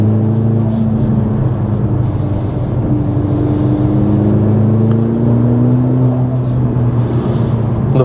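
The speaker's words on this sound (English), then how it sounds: "The first thing you instantly notice is that the fake sound in here is really loud" Inside a 2024 Mercedes-AMG C63S E Performance in Sport mode, the four-cylinder's loud synthetic engine sound plays through the cabin as a constant droning hum with slowly rising and falling tones, with no talking.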